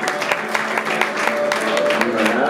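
Audience applause at a lively night show with a band, a steady patter of many hands clapping with sharper individual claps standing out, fairly close and continuous.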